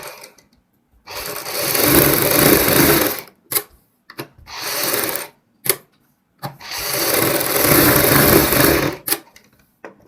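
A sewing machine stitches a fabric strip onto cloth for a neck design, running in three long loud bursts separated by short pauses and brief clicks, with no talking.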